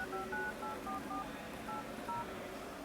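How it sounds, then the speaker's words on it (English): Touch-tone keypad beeps ring out as a number is dialed on a Nokia N9 smartphone, a quick irregular string of short tones, fairly quiet and close, with no talking. "hope that's not your number I'm dialing"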